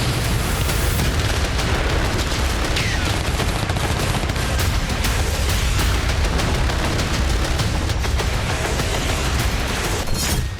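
Sustained rapid gunfire from an unmanned ground vehicle used by Ukrainian forces against Russian troops, a dense loud barrage of overlapping shots and booms filling the whole stretch without pause.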